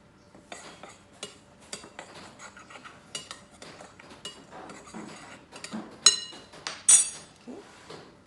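A utensil scrapes and clinks against a bowl while dry waffle ingredients are mixed, irregular taps and stirring strokes close by, sharper clinks standing out near the end.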